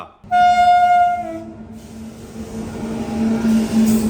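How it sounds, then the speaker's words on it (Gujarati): Train at a closed railway crossing at night, opening with a loud, long horn blast close by, then a steady rumble of the passing cars and short horn toots near the end. "ફાટક બાટક બંધ પડ્યા મિત્રો રાતે ટ્રેન તો આવે ગમે તે ટ્રેન આવે"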